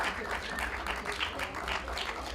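An audience applauds for a singer at an intimate show: a dense, continuous patter of many hands clapping, fairly soft and distant, holding steady without pause.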